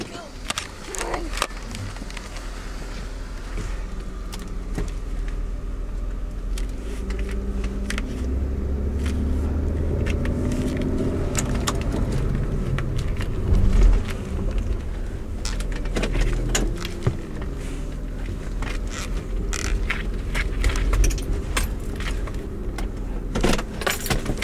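A repossessed car rumbles low as it is driven away, engine and road noise steady beneath scattered clicks and rattles, with people talking inside the cabin.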